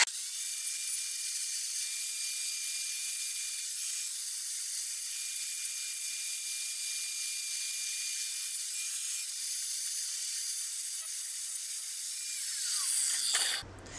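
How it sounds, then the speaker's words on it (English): A flap disc on an angle grinder takes the edges off a bolt during work on a Mk3 Cortina Estate. The grinding is a steady, bright, hissing whine that holds for about thirteen seconds and then cuts off abruptly at the end. "I've changed the disc over, so I've got a flap disc instead. So I'm just going to take the edges off this bolt."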